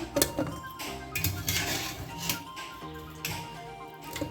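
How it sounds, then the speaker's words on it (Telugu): Metal kitchenware clatters and clinks as boiled chicken is tipped into a colander, with a few bright knocks against the bowl and a busy kitchen hum behind. "ఇప్పుడు మనం దీన్ని చిల్లులు గిన్నెలో వేసుకుందాం."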